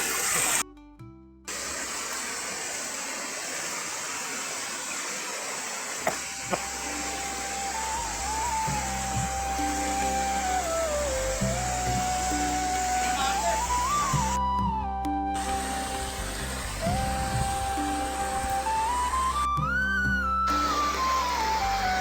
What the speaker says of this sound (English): This is a natural waterfall in Sri Lanka.